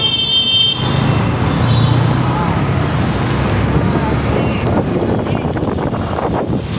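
Motorbike riding home through busy Hyderabad traffic: steady rushing wind noise and engine rumble blanket the clip, with a brief high whine early on and continuous road roar throughout.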